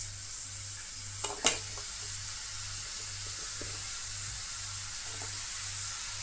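Chopped tomatoes go into a pan of frying onions and get stirred, bringing a couple of brief clattering stirs early on, then a steady close sizzle and hiss running underneath with no talking.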